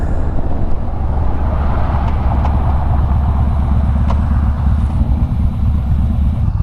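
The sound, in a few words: Yamaha Bolt motorcycles riding in the canyons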